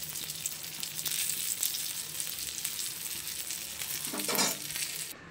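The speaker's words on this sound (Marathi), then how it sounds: "छान असं दोन्ही बाजूने आपण फ्राय करून झालंय।" Crisp brinjal slices fry on a hot tawa with a steady, close sizzle and crackle, a few light scrapes, and a brief louder hiss swelling near the end.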